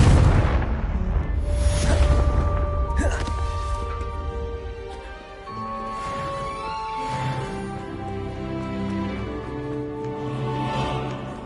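In the video game Hogwarts Legacy, the Confringo spell detonates in a heavy booming blast that rolls off into rumbling, crackling debris, with an orchestral game score and a voice mixed in.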